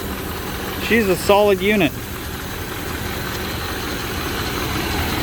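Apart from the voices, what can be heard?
engine of a 1983 Monte Carlo running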